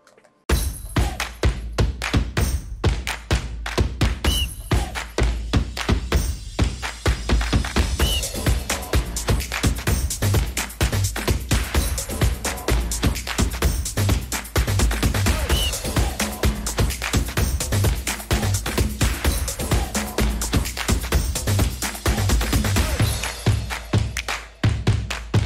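A foam-packed cardboard mug box is dropped and thrown repeatedly, producing a long series of close, loud thuds and knocks in a rapid irregular rhythm with no talking.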